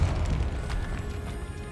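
A blasting Bombarda spell explosion in the Hogwarts Legacy video game: one deep, muffled boom that rumbles and fades over a moment.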